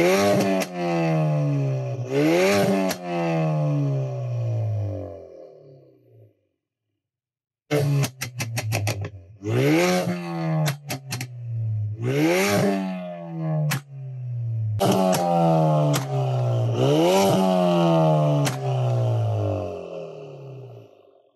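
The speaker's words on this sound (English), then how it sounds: "I'm going to rev it in normal, and then I'm going to rev it in a different mode just so you guys can hear the difference." A car with a burble exhaust tune is revved repeatedly in two modes. Loud rising and falling engine revs come in bursts, with rapid crackling exhaust pops between them and a brief silent gap midway.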